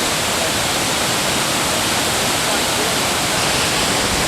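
Broad steady rush of a small waterfall roughly 30 feet high in outback Queensland, continuous and fairly loud, holding even throughout with no break or voice over it.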